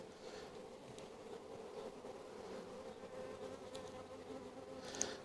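Honey bees buzz steadily around hives 1 and 2 at an apiary during a good nectar flow, a soft continuous drone with a few closer passing buzzes, no voices.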